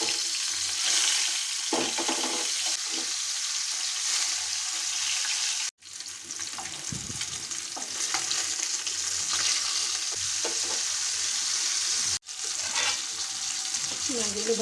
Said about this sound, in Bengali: তেলটা গরম হয়ে গেছে, মাছগুলো ভেজে উঠাবো।